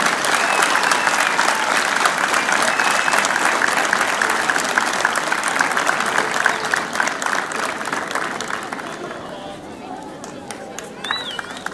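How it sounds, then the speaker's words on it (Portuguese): Crowd applause rings out at an outdoor Santo António festival parade of popular marches, a dense, steady wash of many hands clapping with some crowd chatter, easing slightly toward the end. "Uma salva de palmas para todos eles que ajudaram a concretizar este dia."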